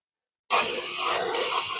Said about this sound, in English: So we're going to spray this off, and look at all that stuff coming off.